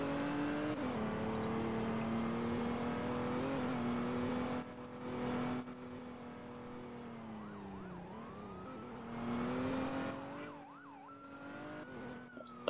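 A police car siren in the ER:LC roleplay video game wails steadily, then shifts to rising and falling sweeps with a car engine underneath, staying fairly close and moderately loud with no talking.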